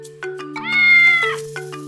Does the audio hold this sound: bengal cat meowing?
yes